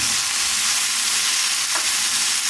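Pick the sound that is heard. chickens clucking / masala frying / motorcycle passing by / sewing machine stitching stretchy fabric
masala frying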